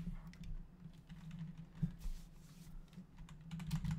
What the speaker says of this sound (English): My typing is not good.